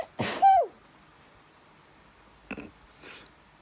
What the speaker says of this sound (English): That was a rubbish sneeze.